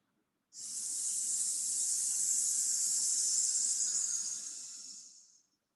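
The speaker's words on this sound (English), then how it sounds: "exhaling, coming up with a s sound" A single long qigong breath pushed out as a steady, bright hissing 's', starting abruptly and fading over about five seconds.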